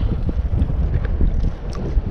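Strong gusty wind buffets the microphone at sea with a continuous low rumble and roar, loud and close, with faint splashing water underneath.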